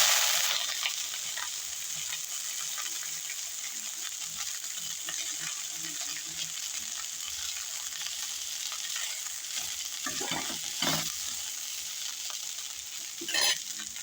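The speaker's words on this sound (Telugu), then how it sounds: "దీంట్లో చించిగురు వేసుకుని వేపేసుకోవాలి." Tender tamarind leaves frying in a pan for a pickle, a steady soft sizzle throughout with occasional stirring scrapes and a small clink near the end, no talk.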